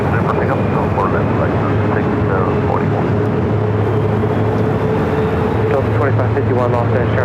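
An Airbus A320neo airliner takes off from runway 24 left at LAX, a steady, loud engine roar that holds for several seconds, with air traffic control radio talk running over it.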